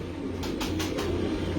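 A Lalpuri pigeon gives a few soft, low coos close by, with faint background hiss and a brief rustle or wing flutter near the start.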